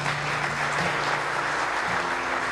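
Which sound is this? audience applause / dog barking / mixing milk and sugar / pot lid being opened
audience applause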